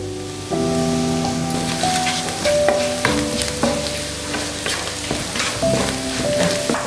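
Onions sautéing in a pan with salt and turmeric for vermicelli upma, a steady sizzle with repeated stirring and scraping clinks over about seven seconds, fairly close, with no talk.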